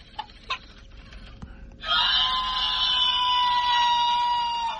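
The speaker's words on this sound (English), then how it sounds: "If I squeeze its wing, it sends off this noise." A squeezed toy rubber chicken lets out a long, loud, shrill squawking scream that holds for a few seconds, preceded by faint small clicks and handling noises.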